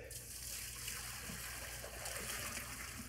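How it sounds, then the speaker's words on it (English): Boiled penne and its salty cooking water poured into a strainer give a continuous close rush of splashing liquid that keeps an even level throughout. "We're going to drain them."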